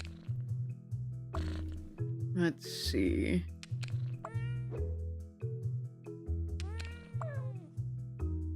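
Video-game cats meow repeatedly, several distinct rising calls scattered among soft clicks and a steady music bed, with a person talking briefly over them.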